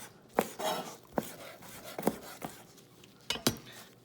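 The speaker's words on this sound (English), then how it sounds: "So I'm going to be chopping these guys up crosswise so we don't have a chewy piece of meat." A knife chops pork tenderloin strips crosswise on a cutting board, sharp distinct knocks landing in an uneven rhythm, some close together, heard near and fairly quiet with no talk.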